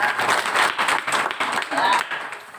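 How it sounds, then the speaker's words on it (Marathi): Audience at a comic Marathi kirtan breaking into steady, crowded clapping that fills the hall for a couple of seconds, with voices mixed faintly underneath. "टाळी बघा"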